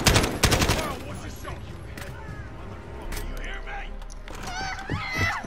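Gunfire in the Modern Warfare campaign, with a loud opening burst of rapid shots followed by scattered, quieter reports beneath in-game chatter and ambient battle noise.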